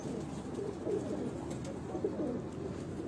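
A pigeon, a show bird of a Karachi fancier's line, coos softly and continuously at close range, its low murmuring steady across the whole stretch with a few slightly louder swells.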